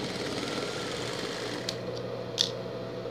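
A sewing machine hums steadily while stitching a pet carrier, a close, continuous motor whir with a couple of sharp clicks near the end.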